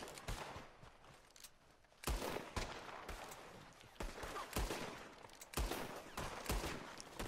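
Rapid bursts of gunfire in the video game Red Dead Redemption 2, a loose volley of sharp cracking shots coming in clusters over several seconds, fairly faint with a few louder reports.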